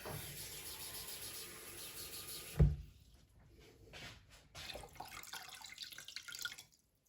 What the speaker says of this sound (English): Normal cold tap water.